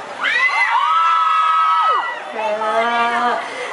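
A crowd at a fan event shouts and cheers loudly in sustained high-pitched screams that swell, dip briefly and rise again.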